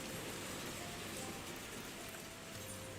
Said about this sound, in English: I'm starting to hear the rain again